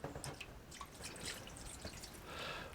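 Water being run through a freshly soldered pipe during demolition and renovation work, heard as a steady close trickle and dripping with scattered splashes that swell toward the end, no talking.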